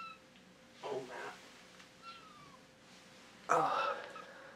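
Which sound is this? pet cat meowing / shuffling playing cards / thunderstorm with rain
pet cat meowing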